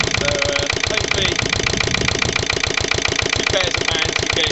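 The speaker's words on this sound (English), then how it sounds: "First diesel stationary engine I've ever had." A Lister LD1 single-cylinder diesel stationary engine, old and running rough with a fault, chugs steadily and close by with a fast, even knocking beat throughout.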